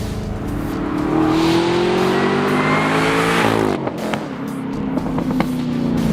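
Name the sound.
Camaro ZL1 supercharged 6.2 liter V8 engine revving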